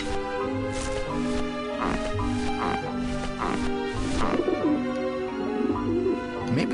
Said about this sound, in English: Ah, the pigeons obviously like this dish vent.